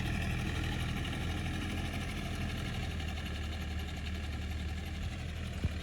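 A DMTZ 504 tractor engine idles steadily at close range, a constant low rumble with a faint mechanical clatter and no talking.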